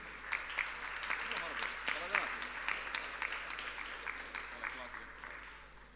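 An audience at an IT college anniversary award ceremony applauds steadily for several seconds, dense clapping in a hall with speech over it.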